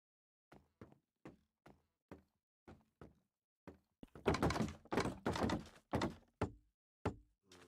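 Button presses in the Minecraft 22w42a snapshot: a row of about a dozen soft, evenly spaced wooden clicks, then a denser run of louder, broader clunks toward the end.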